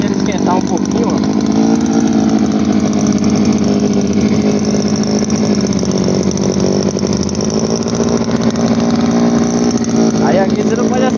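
A gasoline-engine soil auger runs at a steady, loud buzzing idle as it warms up, with someone speaking over the continuous engine drone.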